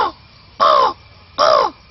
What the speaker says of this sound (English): and this crow will make a call